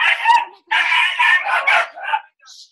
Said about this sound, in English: We have dogs barking at our interviews.